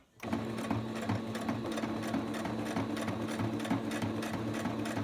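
A sewing machine fitted with a Teflon presser foot stitches a pair of pants, giving a steady, close mechanical whir that runs unbroken for several seconds with no talking.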